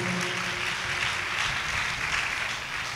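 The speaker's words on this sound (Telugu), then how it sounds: "చప్పట్లు కొట్టండి, గట్టిగా" Church congregation clapping loudly during a sermon, a dense, steady wash of applause holding at an even level for the whole stretch without pause.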